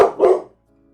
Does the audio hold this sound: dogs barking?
yes